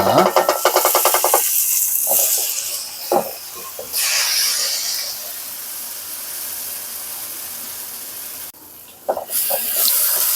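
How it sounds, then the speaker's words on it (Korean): Kimchi stir-fries in olive oil in a pan, a loud steady sizzle and hiss that swells and fades as it is tossed, with brief clatters and a quieter, softer frying stretch in the middle. "그리고 김치를 먼저 볶아줍니다"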